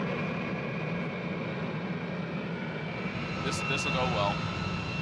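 A fighter jet engine throttles up inside a hover pit, giving a loud, steady roar with broadband noise. A voice speaks over it.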